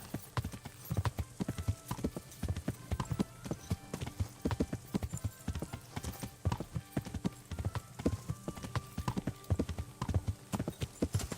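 Steady clip-clop of horse hooves at a walking pace in Kingdom Come: Deliverance, a continuous rhythmic clatter that stays fairly close throughout.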